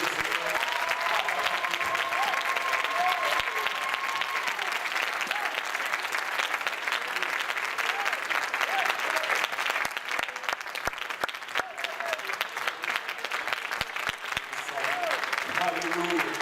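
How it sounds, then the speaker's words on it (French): A church congregation claps steadily and loudly for the whole stretch, a thick, even roar of hands with voices and a faint tone under it early on. "Pouvons-nous juste applaudir"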